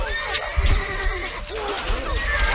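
A horse in the video game Stronghold Crusader neighs in a loud, close whinny that rises and falls over about two seconds, set against busy battle ambience.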